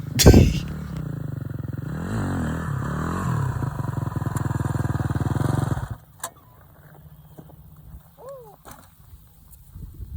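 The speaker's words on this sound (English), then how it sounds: "if you're on a bigger bike like this, do not give it too much throttle" A 250cc dirt bike engine roars loudly and close for several seconds, revving with a rough, rising and falling drone, then cuts off abruptly. Quieter clatter and faint sounds follow.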